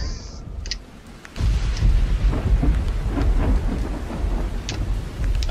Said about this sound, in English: Oh god, now it's raining.